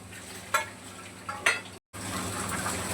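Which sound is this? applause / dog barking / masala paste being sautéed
masala paste being sautéed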